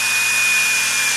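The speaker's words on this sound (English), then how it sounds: "drill it in." Close, loud, steady whine of a power drill driving drywall screws into a wooden sewing and quilting table, one continuous run with no talk.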